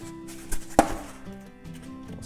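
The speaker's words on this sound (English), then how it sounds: "I try to cut triple ply cardboard" A Kizer Yorkie knife slicing through triple-ply cardboard, a couple of short sharp cutting strokes with a crisp tearing scrape, close and alone against a quiet room.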